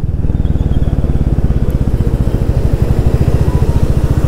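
A Royal Enfield Classic motorcycle engine runs steadily nearby with a loud, rapid, even thumping pulse throughout, no voices over it.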